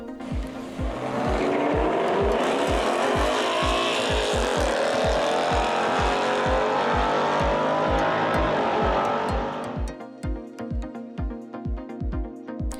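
A V6 Ford Mustang sports car revs hard and accelerates, its loud engine roar rising steadily for about ten seconds, then dropping off to a lighter, uneven rumble, with no talking.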